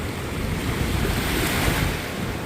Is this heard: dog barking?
no